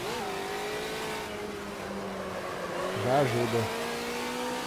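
Race car engine in Automobilista 2 droning at steady revs, then dropping sharply under braking with a quick downshift blip before pulling again, heard under someone talking.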